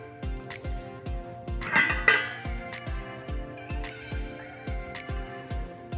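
Pasta being tossed with lemon cream sauce in a pan, with regular rhythmic clinks and scrapes of a utensil against the metal pan, close and fairly quiet, and a slightly louder clatter partway through.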